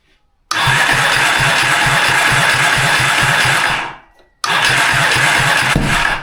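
A Yamaha XS650 motorcycle engine starts and revs for about three seconds, cuts out, then fires up again and runs loudly and close by, with a steady thumping rhythm.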